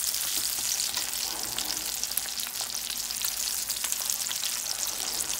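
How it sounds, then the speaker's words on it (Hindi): Beef kebabs fry in a pan without an egg coating, giving a dense, even sizzle that stays close and steady throughout with no pauses and no voices. "ना मैंने अंडा लगाया बगैर अंडे के फ्राई कर रही"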